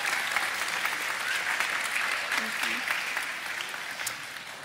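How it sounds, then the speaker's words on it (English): An audience bursts into sustained, steady applause welcoming two children's book authors onto a stage at a school-themed event, the clapping dense and continuous throughout before easing slightly at the end. "Please make a whole lot of noise and make both of these authors very welcome."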